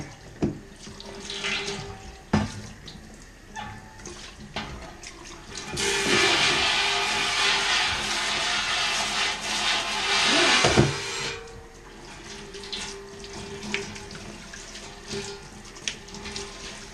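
Water runs from a tap while a cymbal is cleaned and kept wet, with intermittent splashing and handling, and a stronger, steady gush in the middle before easing back to trickles.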